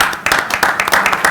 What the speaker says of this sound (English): I don't know if we're clapping for giving it up or for your time served.